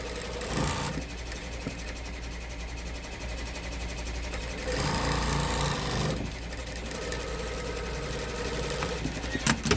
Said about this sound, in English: So you would backstitch those seams.